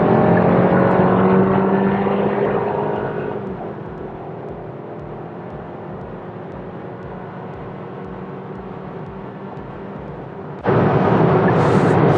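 Engine of a front-wheel-drive Hyundai Kona SX2 small SUV on the road: a steady loud drone eases to a quieter cruise, then swells sharply again near the end as the driver accelerates hard.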